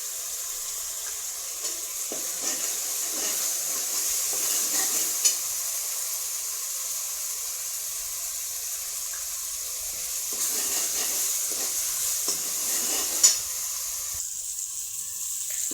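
A masala paste with turmeric sautéing in oil in a pan for a traditional urad dal amti, a soft, steady hiss with faint clinks and a couple of sharper knocks, quiet and even throughout, no voices.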